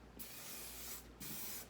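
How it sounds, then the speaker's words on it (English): Hairspray hisses from an aerosol can in two close, steady bursts with a brief break between them, misting over set hair. "You want to go over all of this again with your hairspray."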